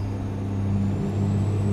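A heavy truck engine in American Truck Simulator droning steadily and rising slightly in pitch as it accelerates, a loud, close, constant rumble with no talking.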